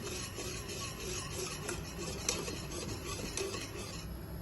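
Cream stirred with a spoon in a pot over the stove for a mock profiterole filling, making a steady scraping and rubbing against the metal for several seconds, close and fairly quiet with no talking.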